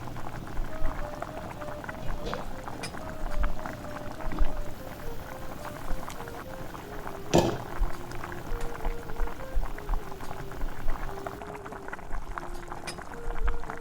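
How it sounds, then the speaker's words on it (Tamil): Chicken bone rasam bubbling steadily in a pot, a continuous close simmering hiss with small pops, a faint melodic tone running underneath and one brief louder clatter partway through. "இப்போ பாருங்கள் நல்லா கொதிச்சு கொண்டிருக்கு."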